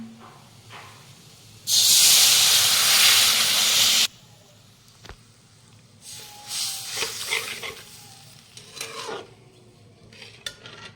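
Water splashed into hot masala for an eggplant curry hisses loudly in a pan for about two seconds, then cuts off, followed by fainter bubbling and utensil clinks with no talking.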